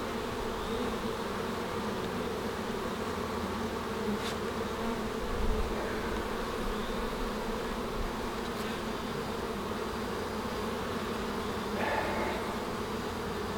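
Bees buzzing steadily around an open hive during a swarm-prevention inspection, a dense continuous drone close to the listener with a few brief louder passes, no speech.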